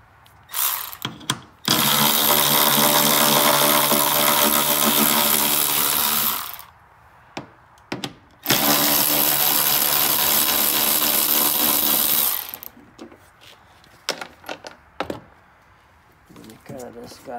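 A power tool backing out the bolts holding a car tail light; two long, loud, steady whirring runs of about five seconds each, separated and framed by short clicks and handling noises.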